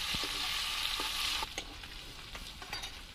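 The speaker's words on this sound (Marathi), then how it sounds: "तर हिरवी मिरची व्यवस्थित झाली आहे तेलामध्ये" Green chili paste frying in hot oil for a drumstick flower vegetable dish gives a steady bright sizzle, with a few soft spoon clinks and stirring scrapes as the hiss eases slightly halfway through.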